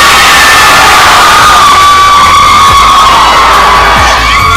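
Pageant audience cheering and whooping for contestants, a loud, sustained crowd roar with shouts and high squeals throughout.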